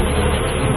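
A dense swarm of honeybees buzzing steadily around an invading hornet, a close, continuous high drone with no breaks.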